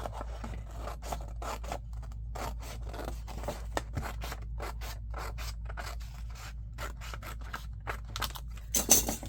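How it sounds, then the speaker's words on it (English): Scissors snip straight along the second score line of paper for a vintage envelope with pockets, a steady run of close, crisp cuts with small rasping rubs between them, ending in a couple of louder snips. "on the second line, you cut straight like this"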